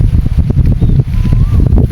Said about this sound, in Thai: โอ้เสียงลม ลมแห้งเนาะ